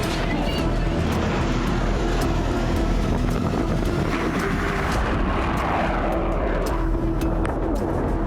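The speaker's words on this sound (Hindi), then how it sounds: "आसमान से लड़ाकू विमान बम बरसा रहे हैं।" Fighter jets roaring across the sky during bombing in Middle East war footage, a steady loud rumbling drone with scattered sharp cracks and a rising roar toward the end.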